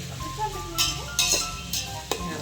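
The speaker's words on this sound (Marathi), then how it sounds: "कांदा चांगल्यापैकी असा कांदा ब्राऊन होत तर त्याला फ्राय करत राहा." Sliced onions browning in a pan for pulao or khichdi, a steady sizzle broken by a few scraping stirs and light clinks near the microphone, no voices.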